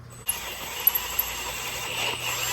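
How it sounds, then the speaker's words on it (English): A steady whirring drill runs a large bit through material at moderate volume, with a high whine and a few sharp catches as it bites in. "it's a bigger bit, bigger drill bit"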